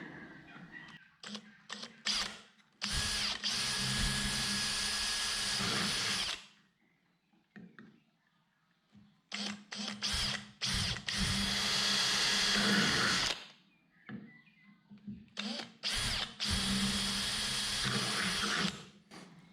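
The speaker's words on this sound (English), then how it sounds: "So I'm going to drill a hole there." A power drill bores holes in a fishing boat during its fit-out, sounding as three loud, close whirring bursts of several seconds each, separated by quiet pauses.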